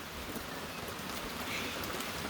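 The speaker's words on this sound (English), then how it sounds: "it started raining" Rain falls in a steady, dense hiss, soft and continuous, with no voices or other sounds standing out.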